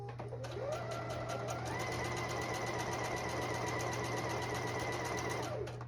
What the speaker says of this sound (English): I'm going to reposition my fabric to continue stitching at my 5/8 of an inch seam allowance.